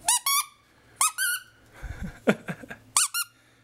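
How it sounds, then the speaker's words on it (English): A plush raccoon dog toy with squeakers squeaks in short sharp bursts, several quick pairs of high squeals close by, with some soft rustling between. "A raccoon in every one of these squares has a squeaker in it."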